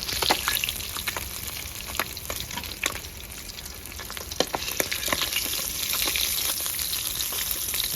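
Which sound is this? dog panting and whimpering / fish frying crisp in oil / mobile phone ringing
fish frying crisp in oil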